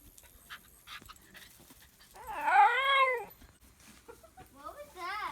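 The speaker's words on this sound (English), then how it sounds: "It sounded like a cat." A cat's drawn-out wavering meow rises clearly out of a quiet outdoor homestead scene, with a shorter second cry near the end and soft rustling and panting sounds around it.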